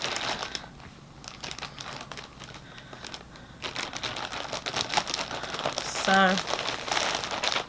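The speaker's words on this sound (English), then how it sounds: "I'm sorry for the crinkling, but I gotta keep it all separated in my little beautiful Ziploc bags" Plastic Ziploc bags holding knitted sweater pieces and yarn get handled and crinkled close up. The crackling rustle comes and goes in bursts and grows busier toward the end, with a brief spoken word.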